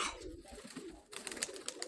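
A hen pigeon, a mottled Crimean tail-marked bird, coos softly at dusk as the flock returns home, low murmuring notes followed by brighter fluttering and chirpy sounds nearby.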